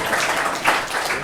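A brief burst of applause from a small indoor audience, dense and fairly close.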